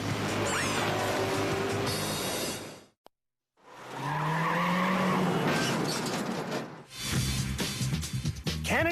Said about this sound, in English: we'll see if Dale and Lance can do a full skidding 180